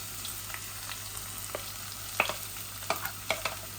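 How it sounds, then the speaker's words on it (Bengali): Onions are added to garlic already browned in hot oil, making a quiet steady sizzle with sharper spitting crackles and pops near the end, close and without speech. "এই যে আমার রসুনগুলা লাল লাল হয়ে যায়, এখন আমি পেঁয়াজ দিলাম।"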